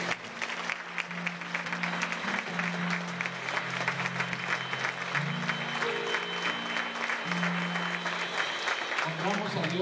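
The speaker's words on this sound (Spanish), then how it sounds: "Dándole un aplauso a Dios" Churchgoers clap in praise to God after a blessing, a steady wash of applause at moderate level with sustained low musical tones, probably an organ or keyboard, holding underneath.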